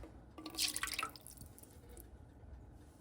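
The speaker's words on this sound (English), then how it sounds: "I'm just going to skim some of this good old broth and reserve it." Pinto bean and lentil broth with a ham bone drips and trickles as it is skimmed from a pot, a short close burst of liquid splashing that fades into a low simmering hush.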